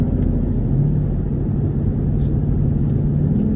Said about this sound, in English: I might put it in sport, give y'all boys a downshift.